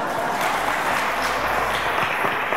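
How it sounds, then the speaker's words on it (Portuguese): Audience at a literary festival session applauding on request, a dense, steady wash of many hands clapping that fills the whole stretch at moderate loudness with no talk over it. "eu queria uma salva de palmas."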